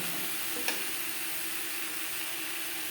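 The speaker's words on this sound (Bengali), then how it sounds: "তিন চার মিনিট পেঁপের সাথে নারকেল বেশ ভালো করে ভেজে নেব" Papaya and grated coconut fry together in a pan with a soft, continuous sizzle. A single faint tap of a utensil sounds early on, and there are no voices.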